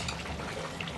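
Spicy braised chicken broth for Korean dakbokkeumtang bubbles over high heat, a steady dense gurgling boil with no speech.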